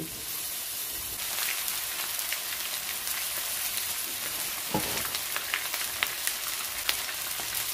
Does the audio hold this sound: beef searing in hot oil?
yes